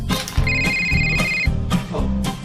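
A telephone rings at moderate volume in an indoor home scene, with a steady electronic ringing tone repeating over busy background music and sound effects.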